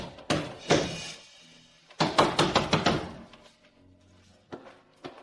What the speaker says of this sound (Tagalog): Siraan ang pinto. Ang tibay naman nito.